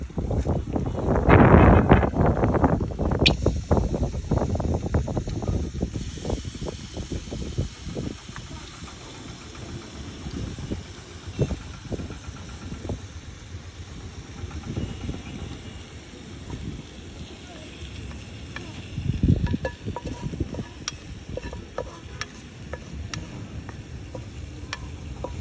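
Marinated handi mutton is poured into a hot pot on an outdoor rooftop setup. A loud sizzling surge comes first, then it settles into steady crackling frying under gusty wind noise on the microphone.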